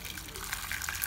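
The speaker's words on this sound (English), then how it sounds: "I'm just gonna cover that with hot water now." Hot water from a freshly boiled kettle is poured over burdock root for tea, a brief, soft gushing splash heard close up and fairly quiet.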